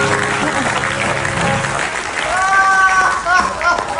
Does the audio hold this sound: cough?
no